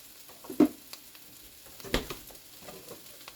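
Low carb hash frying in a pan over medium heat, a quiet sizzle with a few sharp scrapes of stirring, close by.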